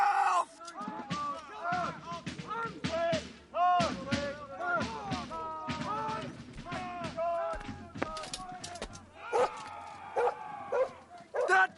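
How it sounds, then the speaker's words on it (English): A dog barks and yips repeatedly amid loud, overlapping shouting by men on a chaotic period military drill ground, the barks coming in short bursts mixed into the voices. "That man has a dog!"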